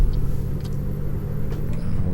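Mack truck engine in Euro Truck Simulator 2 during a downshift while hauling a heavy load uphill, a steady low diesel rumble held close and constant throughout.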